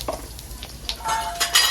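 Bay leaf, dried chili, cinnamon and a little cumin fry in hot oil in a pan, a soft sizzle broken by a few faint clinks and stirring scrapes, close by and without talking.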